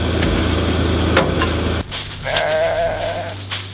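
Sheep bleating on a homestead, a few calls from the flock, with a wavering bleat near the end over steady low rumble and some clatter; no talk.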